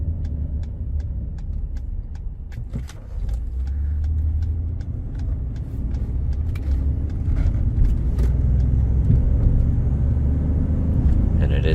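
A 2015 Ford F-150 Platinum pickup truck on a drive gives a steady low road and engine rumble from inside the cab, with faint ticking and light rattles above it and a person talking.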